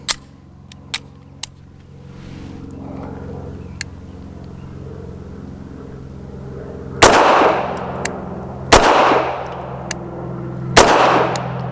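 Bersa TPR .380 pistol firing Fiocchi 95-grain range rounds outdoors: three loud, sharp reports spaced about two seconds apart, each with a ringing decay, following a quieter stretch of faint clicks and handling noise.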